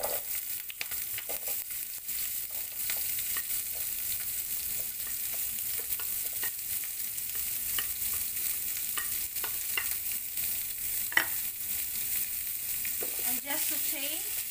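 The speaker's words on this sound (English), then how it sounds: "And just saute until the onion gets translucent or like golden brown" Onion and green chili sautéing in oil with whole black pepper and cloves for rajma masala, a steady close sizzle with occasional light stirring clicks throughout.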